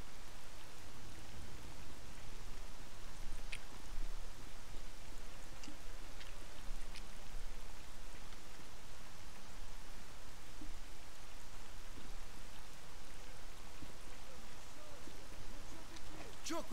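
Steady rain pours down across an outdoor area of a video game, a dense, even hiss that fills the whole stretch without letup, with faint scattered sounds in the background.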